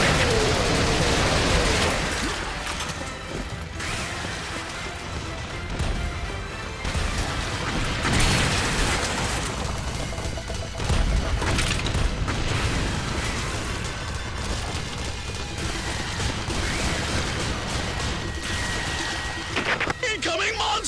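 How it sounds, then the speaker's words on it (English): Dense video game battle audio from Earth Defense Force 5, with sustained rapid machine gun fire mixed with explosions, bursts and crashes, loud and continuous, under voices speaking over the action. "Machine guns."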